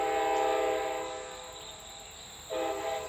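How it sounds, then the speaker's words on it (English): Train horn blaring from a passing train, a loud sustained chord that fades slightly midway and swells again near the end, with rumbling rail noise underneath and no talk. "Shut up, Train."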